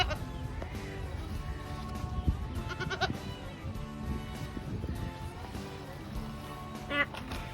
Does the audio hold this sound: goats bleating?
yes